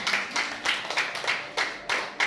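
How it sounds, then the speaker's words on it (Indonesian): Rhythmic congregational clapping at a Sunday church service, about seven or eight evenly spaced claps in a steady beat, fairly close and clear with no talking over them. "Tepuk tangan buat Tuhan"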